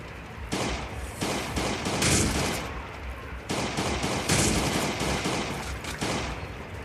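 Rapid machine gun fire rattles through the Last Day on Earth mobile game in dense, loud bursts that pause briefly and start again. The volleys sound close and stand alone, with no speech during them.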